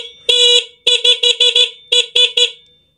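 A newly installed car horn honks repeatedly: one longer blast, then a quick run of short beeps, a pause, and another burst of short honks, loud and close.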